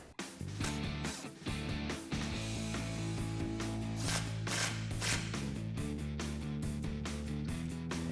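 A ratchet wrench tightens a lock nut on a Rough Country 3.5-inch bolt-on suspension lift kit for a 2007-2021 Toyota Tundra, giving rapid repeated clicking strokes, close and fairly loud, in steady bursts with brief pauses.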